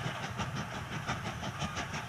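A small steam engine drawing a train into a station produces a steady, rhythmic clatter with a soft hiss underneath, fairly faint and even throughout, with no talking.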